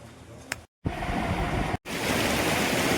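Water flowing at a village pond where people have come to bathe makes a loud, steady broadband rush, briefly cut off twice, with no voices.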